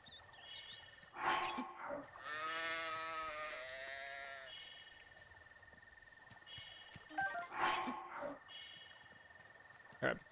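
Sheep bleat in the video game Breath of the Wild, one long wavering bleat near the start over faint ambient background, with soft thumps around it.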